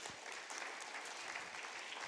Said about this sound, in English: Would you want to clap for him